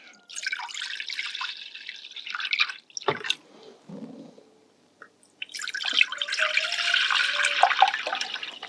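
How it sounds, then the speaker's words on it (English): Water splashes and pours steadily into pots, roughly a liter each, set on a double induction hob, two long pours separated by a brief quiet pause with a light clunk. "we're going to put roughly 1 liter of water into each"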